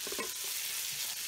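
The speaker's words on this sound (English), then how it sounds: "next thing is I'm gonna saute the onions and mushrooms and the garlic." Onions, mushrooms and garlic sauteing in bacon fat for Southern green beans, a soft steady sizzle with a few brief stirring scrapes near the start, fairly quiet and with no talking.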